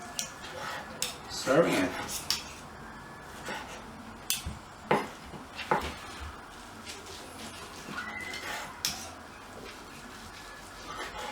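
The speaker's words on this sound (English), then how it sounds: "I guess it's just a matter of slicing this up a bit" A knife works through a smoky grilled chuck roast steak on a board, giving scattered scraping and clinking of cutlery against dishes, fairly quiet and close, with brief talk over it.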